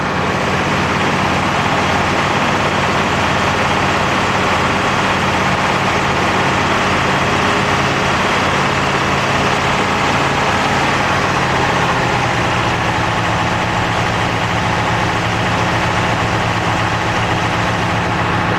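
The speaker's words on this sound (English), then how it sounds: "I've set the fast idle speed at 1800 RPM on my engine" Engine holding a steady fast idle at about 1800 RPM, a constant, loud, even hum with no talking, easing slightly lower toward the end.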